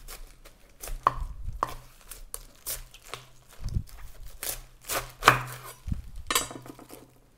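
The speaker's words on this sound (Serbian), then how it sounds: "Ako je neka četvrtina veća, presecite i nju na pola." A knife chops through quarters of cabbage on a cutting board while preparing sauerkraut in jars, with a series of distinct, close, irregular thuds and crunchy cuts over several seconds.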